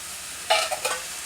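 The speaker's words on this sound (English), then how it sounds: "Then I'm just going to stir this all around." Beans and corn stirred in a cooking pan, a few quick scraping strokes that follow silence: one louder sweep, then two shorter ones close up, with a faint sizzle underneath.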